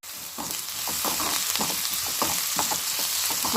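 Onions sautéing in a pan with salt, a steady close sizzle with soft scraping stir strokes repeating every half second or so, with no talk.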